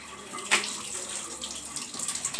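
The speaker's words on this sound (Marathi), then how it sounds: "दोन तीन पाण्याने छानपैकी असं वॉश करून घ्यायचं" Water splashes and sloshes as clothes are rinsed, with intermittent louder swishes and drips over a continuous running-water background.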